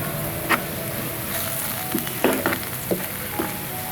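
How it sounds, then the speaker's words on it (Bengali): Spice masala for a rohu fish roe dopeyaja with onion flowers sizzles steadily in a pan over low heat, with a few soft stirring scrapes breaking through the continuous hiss. "প্রথমে একটু ভেজে নিতে হবে"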